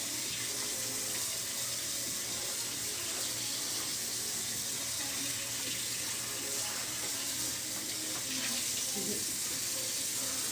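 Garden hose water rinsing tie-dyed fabric in summer, a steady hissing splash running throughout, fairly close, with some background voice under the stream.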